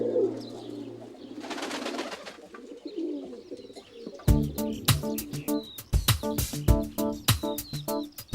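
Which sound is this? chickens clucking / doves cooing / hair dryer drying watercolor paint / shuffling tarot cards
doves cooing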